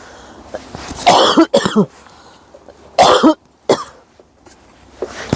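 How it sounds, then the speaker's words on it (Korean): A person coughs in several harsh bursts, two clusters close to the microphone separated by short pauses, with a quieter throat-clearing sound toward the end. "자꾸 기침이 나네"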